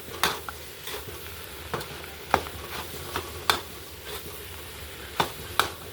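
Fried rice with egg, minced pork and meatballs being stir-fried in a wok, with a steady sizzle under repeated sharp scrapes and clanks of the spatula against the pan, fairly close and with no talking.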